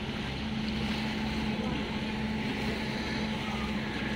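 A Moskva-type passenger motorboat cruises on the Volga river near Samara, its engine droning steadily under wind and water rush, loud and continuous with no talk.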